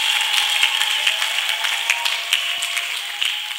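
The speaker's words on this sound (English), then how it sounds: "Keep clapping for the healer of healers." A church congregation keeps clapping in praise, a thick, continuous crowd of hands with a few sharper individual claps standing out, steady and fairly loud without pause.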